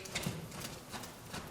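Hooves of a green, inexperienced horse walking lightly under a rider, a few soft, muffled footfalls close by.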